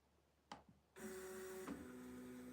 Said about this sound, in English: Okay, now let's try and home the printer.